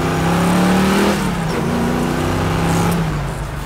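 A 1965 Ford Mustang Fastback engine revs hard in second gear, a loud, steady throaty drone close up that rises and eases back with no talking.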